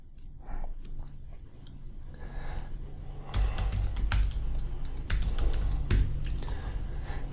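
Rapid clicking keystrokes on a computer keyboard, sparse and light at first, then denser and louder typing bursts continuing to the end, close up with no talk.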